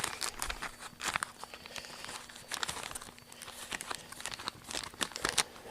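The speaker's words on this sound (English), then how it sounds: "open up our bag of Sculptamold" A plastic bag of Sculptamold is opened up close, giving repeated crinkling and crumpling bursts with brief tearing rustles, irregular and fairly loud, with no talk.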